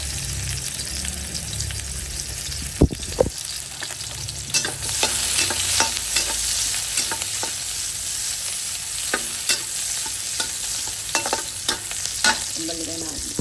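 Onions sizzling loudly in a hot pan while being sautéed for ginataang langka, a Filipino jackfruit dish cooked in coconut milk, with a sharp clatter near the start and then bursts of stirring scrapes over a constant crackle.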